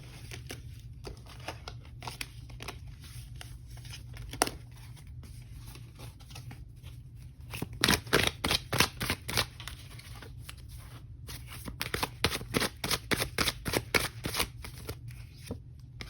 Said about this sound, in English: Let's pull a couple more oracle cards here.